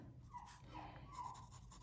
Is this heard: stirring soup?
no